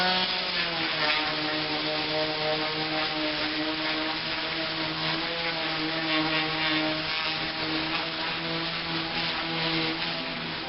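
A Black & Decker electric mouse sander whirs steadily against wood, a constant buzzing drone with a gritty sanding rasp, close and even throughout with no talking.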